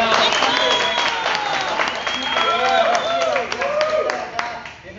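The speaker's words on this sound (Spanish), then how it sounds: "Cristian Puga, un aplauso." A television studio audience claps and cheers for a live guest, the applause loud and continuous with crowd voices and whoops layered over it, fading slightly toward the end.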